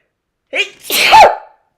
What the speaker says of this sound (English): What a sneeze.